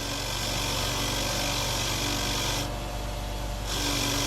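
A Harbor Freight Bauer 8-inch variable-speed bench grinder cleans crusty rust off a threaded part, making a loud, continuous grinding whir with a steady hum beneath and a brief change in tone midway.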